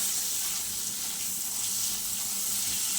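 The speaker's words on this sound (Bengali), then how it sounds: "রসুন, কাঁচা লঙ্কা, হলুদ, নুন আর এক পিস মাছ কাটা বেছে দিয়ে দিয়েছি। একটু হালকা ভাজা ভাজা করে নেব।" A piece of fish with garlic, green chili, turmeric and salt fries lightly in a pan, giving a steady, close hiss of sizzling oil with no talk.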